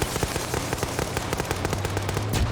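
Rapid bursts of video game gunfire crackle throughout a firefight, repeated shots overlapping in dense volleys with a deeper engine-like hum underneath.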